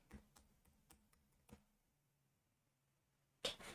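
Quick, light keystrokes on a computer keyboard tap out in a short irregular run, then pause before one sharper, louder key clack, all fairly close and quiet.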